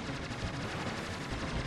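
Rapid gunfire from the Aero Fighters shoot-'em-up plays as a dense, continuous burst of game shots during a boss fight, loud and unbroken with no voices.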